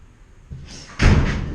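A door opens in a workshop with a soft creak and shuffle, followed by a heavier thump and rattle as it swings, one short close sequence with no talking.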